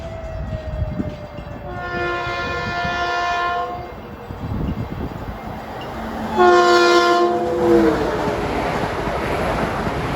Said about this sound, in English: That's train 1728 en route from Atlantic Terminal to Huntington. Eastbound Express on number 1 track.